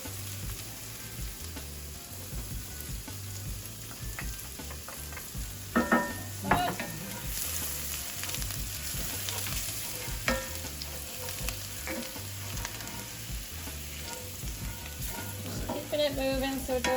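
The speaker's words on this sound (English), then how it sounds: "Go ahead and throw the garlic in." Garlic frying in a pan while being stirred, a steady close sizzle with scattered scraping clicks and utensil taps against the pan, no one speaking.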